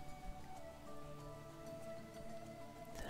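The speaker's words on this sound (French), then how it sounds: "Là-bas, faut que ce soit la pluie." Soft rain patters steadily in the video game XING: The Land Beyond, faint and even, running beneath sustained, gentle musical tones with no voices.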